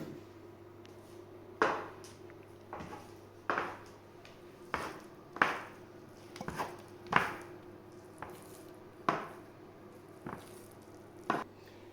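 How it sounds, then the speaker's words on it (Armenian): Dough for chocolate-filled buns is cut by eye into about twelve pieces, producing a dozen sharp, close knife thuds and taps on a board at irregular intervals over a quiet steady hum, with no talking. "ես մոտավորապես 12 հատ բուլկիներ կկտրատեմ, աչքաչափով սիրուն կտրատում եք ու դնում"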